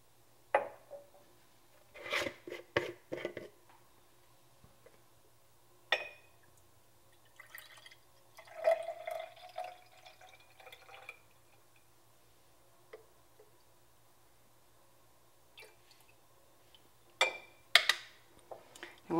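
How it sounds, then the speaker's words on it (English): Homemade buttermilk being poured off solid butter at a kitchen sink, heard as faint, sparse drips and short splashes separated by quiet gaps, with a brief trickle midway. "the first thing we're going to do is pour off the buttermilk from the solid."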